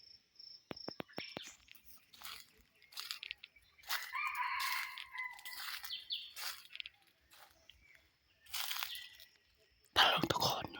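Rooster crowing outdoors among insects, a few drawn-out crows and clucks from nearby birds set against steady cricket chirping, with brief clicks and rustles between.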